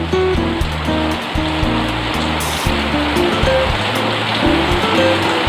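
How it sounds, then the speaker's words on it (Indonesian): Steady rain hiss fills the background while low tonal notes step up and down over it in a simple melody. "Hujan."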